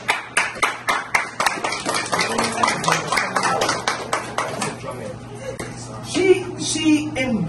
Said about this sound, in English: I want to give a round of applause to my fiance